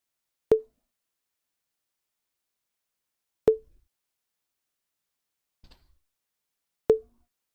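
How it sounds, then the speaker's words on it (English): Three short, bright bell-like tones synthesized with an infinite-impulse-response filter ring out separately with long silent gaps, each decaying quickly like a small bell or xylophone. "it indeed sounds like a small bell or a xylophone"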